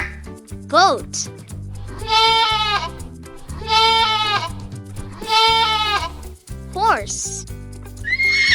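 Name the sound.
goat bleating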